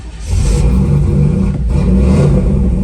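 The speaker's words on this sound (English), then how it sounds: "Whoop, give her a little gas maybe." A 1991 Chevrolet Camaro Z28 convertible engine revs up loudly and holds a deep, rumbling drone, briefly dipping before climbing again, close by.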